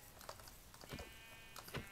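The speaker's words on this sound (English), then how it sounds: "let's punch a sheep" A few short, faint sheep bleats in Minecraft, heard as a sheep is punched, with a synthetic game quality, quiet and close, separated by brief pauses.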